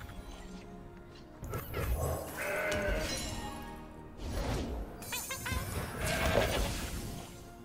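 Goat bleats from the Mountain Goat card in the Legends of Runeterra video game: a few loud, wavering bleats in quick succession, each trailing off with a nasal, quavering tone.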